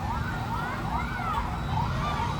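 Wailing fire truck sirens rise and fall in repeated sweeps at a building fire at the former PT Sumatek Subur site in Padang, West Sumatra, over a steady rumble of engines and street noise.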